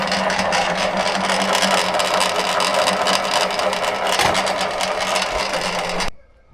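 A pellet mill grinding and pressing calf feed pellets, a loud continuous rough mechanical roar with rattling texture that runs steadily and then stops suddenly near the end.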